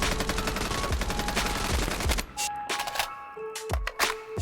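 Rapid automatic gunfire from the mobile game Call of Duty Mobile rattles in a dense burst for about two seconds, then breaks into sparser individual shots with short gaps.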